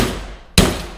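A hammer gives a single sharp metallic blow, driving a front suspension control arm bushing into a Dodge Dakota. It is loud and close, with faint background noise before it.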